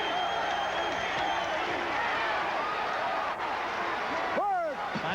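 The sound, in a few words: boxing crowd cheering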